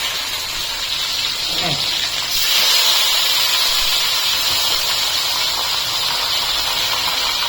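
Onions hit hot oil in a pan for Dindigul-style crab gravy, a loud, close, continuous hiss that surges when they go in and holds steady, with a brief voice underneath.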